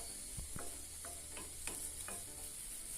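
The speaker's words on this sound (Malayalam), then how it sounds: "നമുക്കൊരു പാത്രത്തിൽ അല്പം തേങ്ങയിട്ട് ഇതൊന്ന് നന്നായി വറുത്തെടുക്കാം" Grated coconut roasting in a pan over a low flame for a Kerala-style crab curry, heard as a soft steady sizzle with several distinct scraping stirs spaced irregularly, close and alone without talk.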